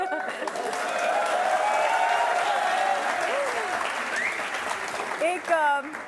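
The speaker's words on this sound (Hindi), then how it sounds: "देखिए तालियों की गड़गड़ाहट कह रही है कि बिल्कुल नहीं।" A television courtroom-show studio audience gives dense, sustained applause that fills the room, with a voice speaking over the clapping near the end.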